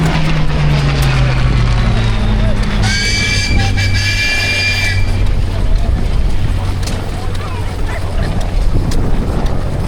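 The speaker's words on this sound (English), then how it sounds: "it seems we got some more stationary engines kicking off" Stationary engines chugging at a steam working weekend rally, a steady low rumble with layered engine tones, joined briefly by a whining higher-pitched machine, all under constant outdoor noise and wind.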